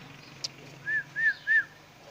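A pet parrot named Mithu whistles three short rising-falling notes in a steady row, clear and close, after a brief high chirp, with no talking over it.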